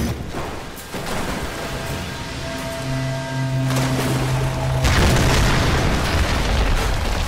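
A deep, rumbling boom of a video game explosion in Tomb Raider swells into a sustained roar with crackling debris, layered over a steady droning hum, all at a loud, close level.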